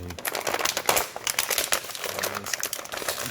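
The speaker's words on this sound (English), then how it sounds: "Get them out of the packaging." Crinkling plastic packaging being pulled away from a Todd McFarlane Mortal Kombat 11 Scorpion action figure, a steady run of close, busy crackles and rustles with no talking.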